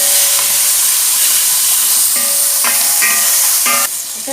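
Frying in a pan while making Anjal fish curry, a loud continuous hiss and sizzle with brief tonal clinks of a utensil against the pan near the end, no speech.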